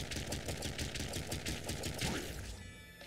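Rapid machine gun fire in the pixel-art shooter Nuclear Throne, a dense steady stream of small retro shots lasting about two and a half seconds before cutting off, fairly quiet and with no talking.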